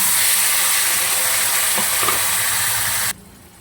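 Boiled vegetables drop into hot oil seasoned with panch phoron, a loud close sizzle and frying hiss with a few stirring scrapes, cutting off abruptly near the end.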